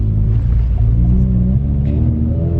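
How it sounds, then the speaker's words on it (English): A low, steady Subaru race car engine rumble fills the cabin on a track day, loud and continuous with a deep droning hum that shifts slightly in pitch. "Sorry it's super loud in here. It's a Subaru / race car."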